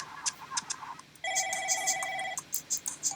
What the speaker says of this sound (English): Ah, I'm getting a phone call.